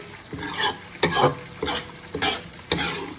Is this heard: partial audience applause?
no